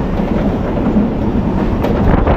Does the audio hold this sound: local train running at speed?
yes